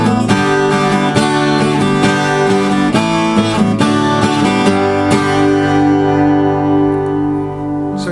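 An acoustic guitar strikes a low G bass note on the sixth string and then strums the chord in a rhythmic repeated pattern, bright and close, ringing out at the end.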